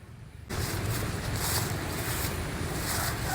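Heavy floodwater rushes through a village after a storm, a loud, steady roar of fast-flowing water that starts abruptly and continues without letup, mixed with wind buffeting the microphone and no talking.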